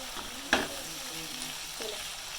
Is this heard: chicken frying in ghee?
yes